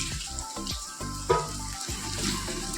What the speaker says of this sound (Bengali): এই বড়াগুলোকে ভেজে নিই, ভেজে নিই।